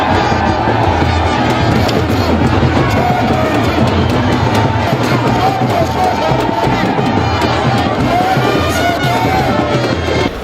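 Massive crowd of enthusiastic supporters at a governorship campaign rally in Cross River, a loud continuous roar of cheering and shouting throughout, dense and close with no clear pauses.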